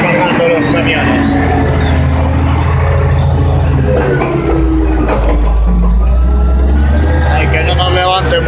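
A Caterpillar 980 wheel loader's diesel engine works hard while loading trucks on a dusty site, a loud, close, heavy low drone that shifts pitch as it revs, with a voice talking over it.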